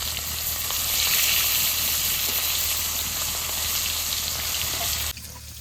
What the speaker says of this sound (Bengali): আর মাছ ভাজতে তো সময় লাগে